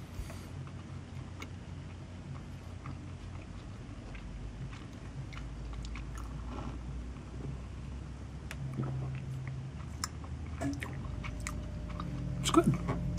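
A hotel grilled cheese sandwich is chewed up close, with soft crunching and mouth sounds repeating over a low room hum, quiet throughout.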